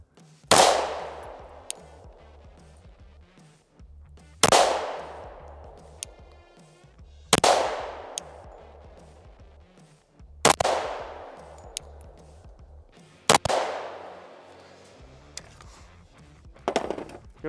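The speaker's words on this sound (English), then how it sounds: "I'm gonna shoot one of the side targets since I've already ruined the middle target" Pistol shots fired at side targets while sighting in a red dot sight: five loud, sharp reports spaced a few seconds apart, each ringing out and decaying into the open air, with faint clinks between them and no talking.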